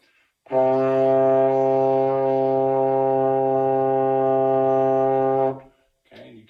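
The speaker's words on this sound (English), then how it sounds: "there's our 6th position C." A single sustained low trombone note, C in sixth position, held steady for about five seconds, loud and close, then cut off, followed by a brief faint voice.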